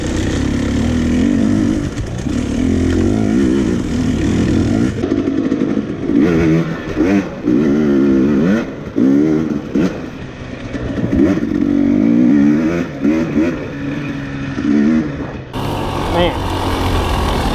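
Dirt bike engine revving and surging loudly while being ridden, pitch rising and falling in repeated bursts, close and continuous with some clattering, a voice speaking briefly over it near the end.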